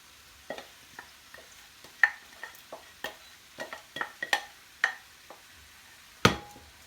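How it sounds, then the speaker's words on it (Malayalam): Roasted rice goes into a frying pan and gets stirred, making a series of sharp scraping and clacking strokes with a faint sizzle between them and one louder knock near the end. "അതിലേക്ക് ഞാൻ ഈ അരി വറുത്തത് ഇട്ട് കൊടുക്കുകയാണ്."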